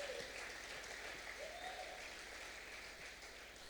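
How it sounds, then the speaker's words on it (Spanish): A church congregation applauds during a Spanish-language worship service, a steady, faint wash of clapping heard from a distance with no voices over it. "Alguien levántele un aplauso a Dios."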